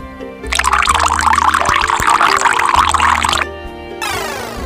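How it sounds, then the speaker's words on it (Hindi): Water pouring from a jug, a loud close splashing stream lasting about three seconds over a musical backing, ending abruptly and followed by a rising tone. "मैं जग हूँ और मैं पानी देता हूँ।"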